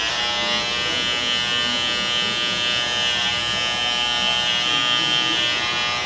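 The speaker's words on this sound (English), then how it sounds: "clipper get loud, that's what happened" Electric hair clippers buzzing continuously and loudly up close during a bald fade haircut, a steady unbroken drone with no talking.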